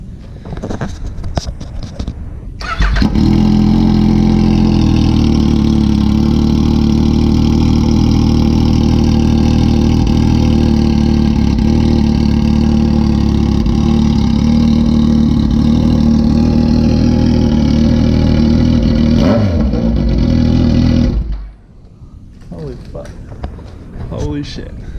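Motorcycle engine fitted with an Akrapovic exhaust running with the muffler end cap removed, roaring loud and close for about eighteen seconds with a deep steady drone and revs, then cutting off abruptly into quiet.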